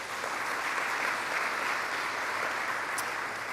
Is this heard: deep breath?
no